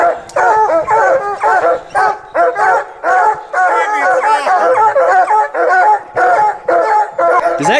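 A pack of hunting hounds bays and yips continuously in rugged terrain after a mountain lion, their overlapping loud barks and howls coming in a dense, near-constant chorus close by.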